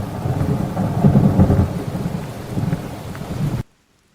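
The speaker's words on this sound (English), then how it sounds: "that's really loud thunder" Loud rumbling thunder rolls through steady rain in a Hytale game session, sustained and heavy for several seconds before cutting off abruptly to silence.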